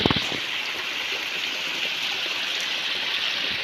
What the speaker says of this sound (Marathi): हे सड्यावरचं इथून पाणी इथे खाली वाहत येतं धबधब्याच्या रूपाने ते खाली वाहत जातं